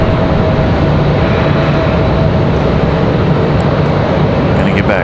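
Departing airliners at Raleigh-Durham airport give a loud, steady broadband engine roar that holds constant throughout, with a faint tonal whine riding on top.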